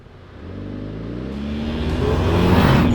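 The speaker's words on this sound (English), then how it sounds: "We'll conduct a linear acceleration test" A tuned wide-body Audi A4 Quattro accelerating hard in a linear acceleration test, engine note rising steadily in pitch and growing louder over three seconds, close and continuous, no talking.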